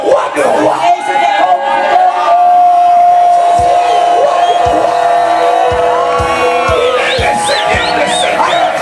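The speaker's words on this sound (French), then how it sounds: "que quelqu'un crie fort que Jésus est le roi de rois" A worship congregation shouts and cheers praise together, a loud sustained crowd roar with whoops and a rhythmic pulse of beats underneath, filling the whole stretch.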